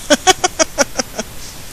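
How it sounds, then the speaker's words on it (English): A dog whines in a quick run of about seven short, high-pitched whimpers that taper off and fade, with no other sound around them. "If you can hear my dog whining in the background"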